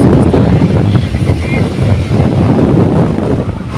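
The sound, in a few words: wind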